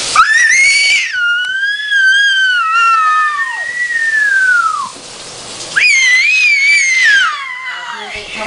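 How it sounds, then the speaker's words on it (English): A voice lets out long, shrill screams that bend and slide downward in pitch, two loud drawn-out bursts close to the mic separated by a brief lull. "She's screaming like a little girl."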